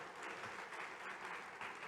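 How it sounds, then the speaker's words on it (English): Audience applause fills a hall at a congress closing ceremony, a dense, steady clatter of many hands clapping without a break. "huge applause from all of us."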